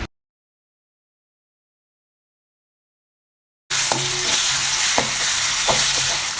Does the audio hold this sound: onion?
yes